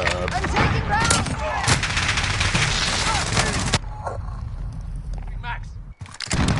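Dense, continuous Warzone video game gunfire with rapid overlapping shots under talk, running loud for several seconds and then thinning into scattered bursts before a brief gap and another loud stretch.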